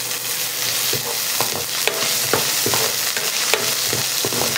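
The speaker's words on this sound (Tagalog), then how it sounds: "Papainitin ko muna yung mantika guys, tsaka natin lalagay yung luya." Ginger sizzles in hot cooking oil in a pan, a dense steady frying hiss with regular scraping knocks of a spatula stirring every half second or so, close up and with no speech.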